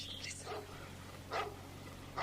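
Dog barking in a dramatised children's mystery audiobook scene: a few separate yapping barks, one at the start, one in the middle and one at the end, fairly quiet over a low steady hum.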